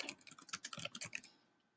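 Rapid, evenly paced keystrokes on a computer keyboard while entering a chemistry equation, about a dozen crisp close clicks in a quick run that stops abruptly, leaving quiet.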